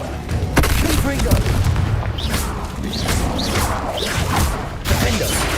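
Fiery Confringo spell blasts from Hogwarts Legacy gameplay, a series of loud booming explosions with crashing impacts and whooshes, dense and continuous with a voice calling over the action.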